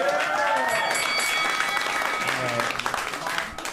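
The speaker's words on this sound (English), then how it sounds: "Give him a round of applause" Audience applause and cheering at a rap battle league show, a dense crowd of clapping with whoops and shouted voices, loud and close, tapering off near the end.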